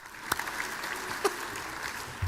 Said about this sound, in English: You deserve a round of applause for that alone.